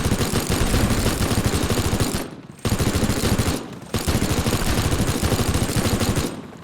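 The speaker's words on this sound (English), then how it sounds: "And then start hitting them with the minigun." A minigun in the video game Teardown fires at tanks in long, loud, rapid bursts, broken by two short pauses before the roar of continuous fire resumes, close and dominant.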